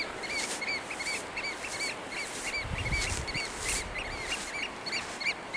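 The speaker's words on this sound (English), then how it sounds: "And those are oyster catchers." Oystercatchers give repeated loud, piping territorial calls in a steady, busy chorus, with a brief low rumble partway through.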